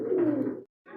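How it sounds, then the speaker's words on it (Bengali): A barless Art Angel pigeon gives a close, low cooing call lasting over half a second, then breaks off briefly before starting another coo. "এটা একটা আর্ট এঞ্জেল কবুতর, বারলেস আর্ট এঞ্জেল"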